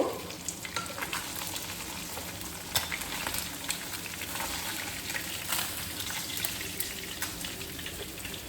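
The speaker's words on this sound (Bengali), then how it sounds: "দেখুন, আমার ট্যাংরা মাছ ভাজা হয়ে গেছে।" Tangra fish frying in hot oil for a Bengali curry, a steady close sizzle and crackle with a few sharper spits and pops, alone without voices.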